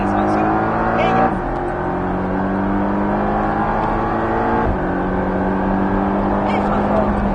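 Porsche 718 Cayman S pushed hard around the Bresse race circuit during a driving course, its engine droning steadily and close with a clear gear change partway through, then pulling again, while an instructor talks over the engine.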